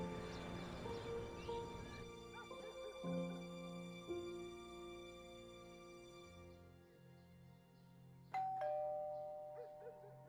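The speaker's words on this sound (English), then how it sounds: "I was laying on the couch when the doorbell rang." A doorbell rings indoors with several sustained, ringing tones that overlap and fade slowly, followed a few seconds later by a fainter chime, heard alone without talk.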